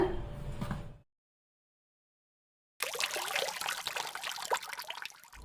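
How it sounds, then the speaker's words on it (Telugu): Water poured into semolina (bombay rava) batter for dosa, about four cups in all: a short splashing pour, a pause of silence, then a steady, close, wet trickling stream. "నేనైతే ప్రస్తుతానికి ఒక నాలుగు కప్పుల నీళ్లు పోస్తూ ఉన్నాను"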